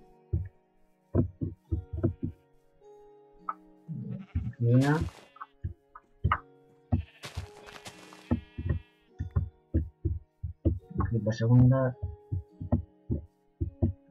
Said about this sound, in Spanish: nos vamos a matar primero a las ovejas